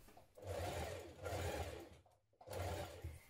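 A sewing machine stitches the ruffle of a dress in quick motor bursts: two long runs, a short pause, then a third run, close and fairly quiet with no talking.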